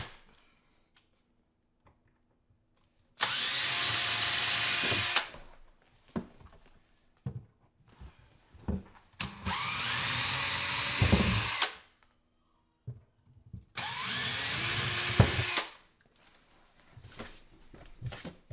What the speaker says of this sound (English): The reason I pre-drill is because I don't want to split the wood.